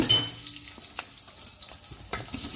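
Chopped onions go into hot oil and desi ghee in a pot for Kolkata-style biryani, giving a steady close sizzle with scattered crackles and light stirring clatter, no voices.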